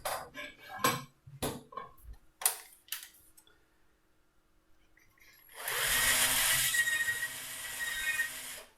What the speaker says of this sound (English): you drill in halfway from one side and halfway from the other.